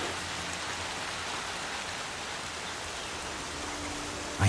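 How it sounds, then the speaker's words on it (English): Rain comes down in the open world of Horizon Zero Dawn as a constant, even hiss of moderate loudness, running alone with no speech, with a brief thump right at the end. "I hate the rain in this game though."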